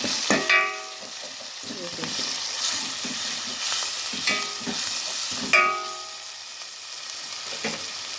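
Mint and coriander leaves sizzle and fry in hot oil for pulao, stirred with intermittent scraping clinks of a spoon against the pan, steady soft frying beneath, no talking.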